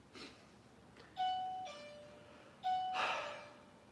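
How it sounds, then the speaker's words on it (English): A two-tone doorbell chimes twice indoors, each ding-dong ringing clearly and fading out in an otherwise quiet room. "That is our doorbell."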